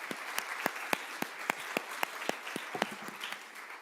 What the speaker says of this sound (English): I would just like for all of us to give them a huge round of applause